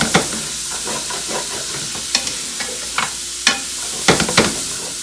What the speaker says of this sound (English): We want to start to pull up all of our beautiful fond that has been developed.